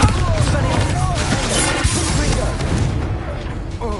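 The Bombarda blast spell in Hogwarts Legacy goes off in a dense, loud volley of booming, crashing bursts. A single sharp impact stands out amid the clamor, and game voices are heard over it.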